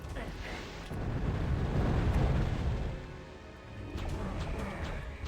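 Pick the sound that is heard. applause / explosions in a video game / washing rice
explosions in a video game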